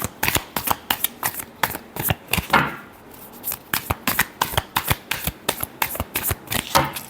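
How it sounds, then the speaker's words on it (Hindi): Someone shuffles a deck of tarot cards by hand: a quick run of crisp riffles and soft slaps in an uneven rhythm, close up and alone. "Last shuffle."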